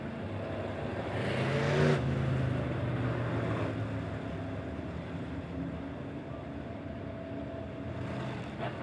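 Super stock race cars rumble around a dirt speedway during a heat race, a steady broad engine roar that swells briefly as the pack passes, then settles into a continuous drone from a moderate distance.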